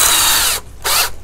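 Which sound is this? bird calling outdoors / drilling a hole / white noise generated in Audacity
drilling a hole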